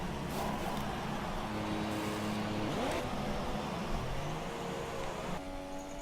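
An F1 race car in F1 2017 pulls out of the pit lane at a rain-soaked Silverstone, its engine droning steadily and rising in pitch, with the roar of other cars layered throughout.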